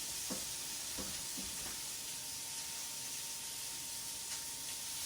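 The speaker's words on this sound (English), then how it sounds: "So I'm browning my breakfast sausage." Breakfast sausage browning in a pan, a steady broad sizzle and hiss running throughout at low level, with a few soft clicks and scrapes of utensils early on and no talking.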